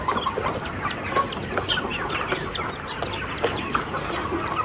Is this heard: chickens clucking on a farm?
yes